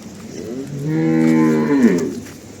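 A single long moo from a pregnant Jersey cow, close and loud, rising and then trailing off over about two seconds.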